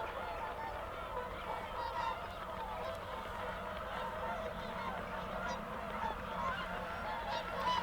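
Flock of swans calling at dawn over the Welney wetlands, a continuous chorus of distant honking and bugling from many birds, layered and steady with no talk.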